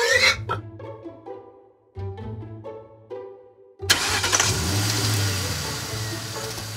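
A cartoon magic flying car in a jungle starts up: a few short tonal bursts, then a loud, sustained engine rumble that kicks in abruptly and keeps running.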